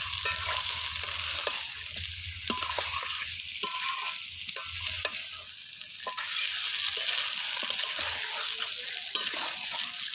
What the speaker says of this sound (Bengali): ঝাল ঝাল মাংস রান্না হচ্ছে কাঠের উনুনে।